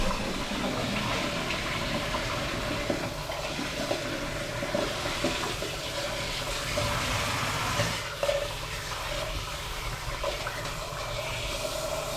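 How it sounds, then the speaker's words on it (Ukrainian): Cold water poured over freshly boiled gnocchi in a kitchen, a steady rushing splash that holds for the whole stretch, with a brief dip and shift in flow partway through. "Це зараз холодною водою залиємо."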